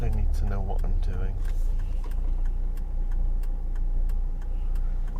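A car's turn indicator ticks at a steady even rhythm inside the cabin while driving on a road in Kent, running under engine hum, with a voice talking briefly at the start.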